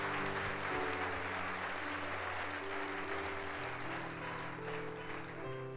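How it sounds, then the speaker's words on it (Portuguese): A congregation claps steadily for several seconds during a Sunday church service, a dense wash of applause over sustained organ or keyboard tones. "Dê um aplauso ao Senhor Jesus."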